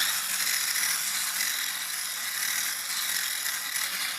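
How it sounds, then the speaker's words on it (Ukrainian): A blender mixing cheesecake filling runs steadily, a loud continuous whirring grind that holds at an even level throughout with no pauses and no voices. "Далі все перебиваємо блендером до однорідності."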